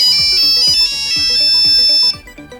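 A Nokia ringtone playing from an iPhone 14, a loud repeating electronic melody of bright, steady tones that cuts off abruptly near the end, with no talking.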